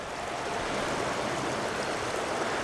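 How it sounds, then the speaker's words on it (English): Water pours out of a pipe into a spring creek, a steady, dense rushing wash that stays constant and close throughout with no pauses. "there is water flowing out of the pipe"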